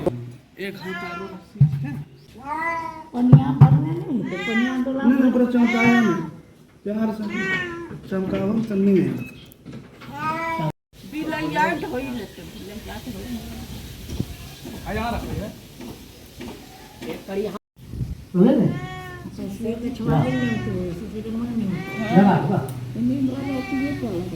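A frightened small kitten meows again and again during a rescue, its cries rising and falling between stretches of people talking nearby.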